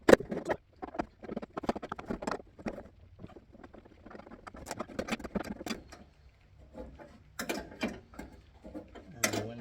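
Tightening a window stop inside the door of a Jeep Grand Wagoneer, working blind in a cramped space: a run of irregular mechanical clicks, taps and ratcheting scrapes, close and moderately loud, with no talking.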